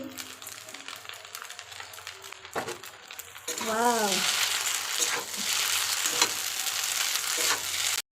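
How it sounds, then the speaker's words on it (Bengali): Chowmein fried and tossed with egg and potato bhujia in a pan, continuous sizzling with spatula scrapes and clanks, a louder hiss swelling partway through, close by. "এবার একটু নাড়াতাড়া করে মানে ভেজে নিয়ে একটু চাউমিনটা"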